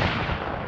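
A tank's 120mm cannon firing at a training range, one loud, dense, booming blast that fills the whole short moment with rumbling roar and no break.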